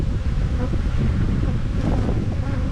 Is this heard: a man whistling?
no